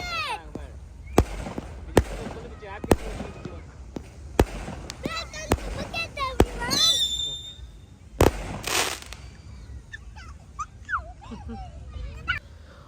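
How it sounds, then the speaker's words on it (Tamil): Firecrackers and fireworks burst at Patong Beach, Phuket, with about eight sharp cracks spread out, some whistling and crackling trails, and a dog barking and whimpering between the blasts. "அங்கே நிறைய பட்டாசுலாம் வெடிச்சிட்டு இருந்தனால"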